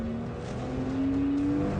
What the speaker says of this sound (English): We're driving around the track now at a relatively modest speed